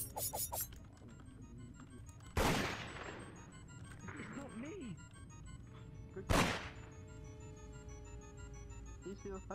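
Two sharp, loud gunshots ring out several seconds apart in the VRChat murder game, each cracking over a background of game noise and faint chatter.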